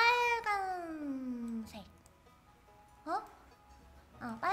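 A gray cat meowing in the farming game Stardew Valley, one long drawn-out meow followed by two shorter meows, clear and close, with a brief spoken word near the end.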